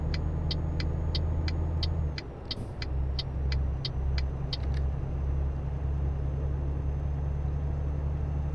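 Truck engine droning low and steady while overtaking on the highway in Euro Truck Simulator 2, a constant hum with a brief shift around a gear change and an even clicking indicator ticking above it.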